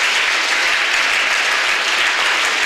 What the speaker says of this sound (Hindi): हम लोग प्रभु को तालियां बजाकर धन्यवाद